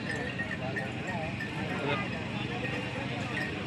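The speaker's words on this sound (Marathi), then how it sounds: "जबरदस्त असे बैल पळतायत." Rapid hoofbeats of bulls running in a district-level bullock cart race at Sonavade, mixed with crowd noise and an excited voice commentating over the pounding.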